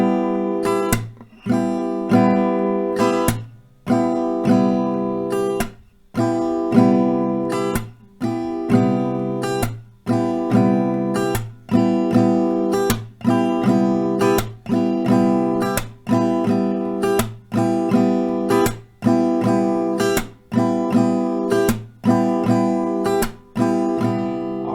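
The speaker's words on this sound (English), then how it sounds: "of this strumming pattern sounds like this" An acoustic guitar strums the pattern for a song in steady, repeating rounds of down and up strokes with a brief pause and muted percussive hit in each, close and bright over about twenty-five seconds, with no voices.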